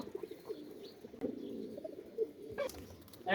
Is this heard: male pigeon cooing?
yes